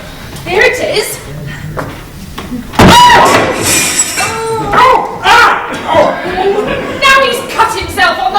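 The glass of a picture frame shatters with a sharp crash, followed by tinkling shards and clatter, while people talk throughout in an indoor room.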